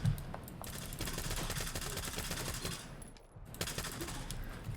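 Rapid submachine gun bursts crackle in the shooter Stalker 2, several quick volleys with a short pause near the end before firing resumes, loud and close.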